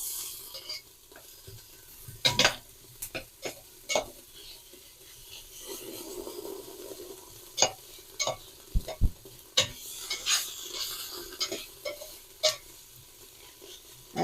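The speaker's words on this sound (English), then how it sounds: "All right, let's stir this around." Green soup in a pot is stirred, the spoon scraping and knocking against the sides in irregular strokes over a faint simmering hiss, close and fairly quiet.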